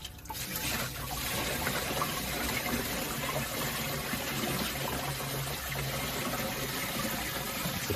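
Water pours steadily into the tank of a Chauvet Nimbus dry ice fog machine, a continuous close rushing splash that fills the whole stretch without talk.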